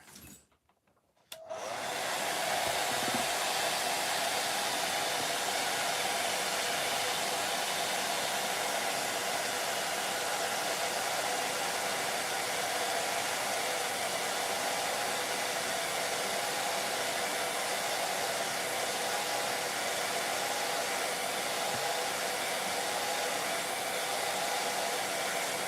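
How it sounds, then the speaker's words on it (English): A hairdryer blows steadily on wet, thin paint on a model house, starting after a brief quiet moment and then running as a loud, continuous airy roar for the rest of the clip. "I just use a hairdryer to speed the process up."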